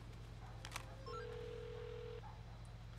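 A burner phone rings in the Saints Row video game: a short rising chirp and a sustained electronic tone over a steady low hum, with a click just before.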